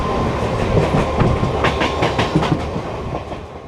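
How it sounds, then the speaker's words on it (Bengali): A crowded passenger train heading into Bardhaman rumbles loudly and steadily up close, its wheels giving a rhythmic clickety-clack over the rail joints, with no talking. "তো আমাদের ট্রেন অলরেডি বর্ধমান ঢুকে গেছে"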